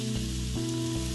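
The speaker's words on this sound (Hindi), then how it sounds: "एकदम करारा करारा दबा दबा करके हम इसको सेकेंगे" A methi paratha sizzles in ghee on a hot griddle with a steady, close crackle, under a low hum that steps in pitch now and then.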